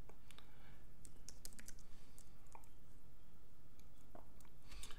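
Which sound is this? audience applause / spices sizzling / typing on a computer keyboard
typing on a computer keyboard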